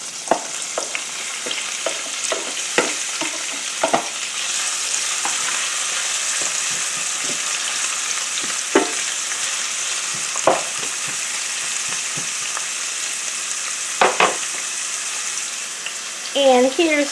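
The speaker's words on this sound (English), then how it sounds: "I'm going to start by putting in my onions. We're not going to fry this real hard. This is more like a light saute." Onions sauté lightly in olive oil in a pan, making a continuous close sizzle broken by occasional stirring scrapes and clinks, with no voices.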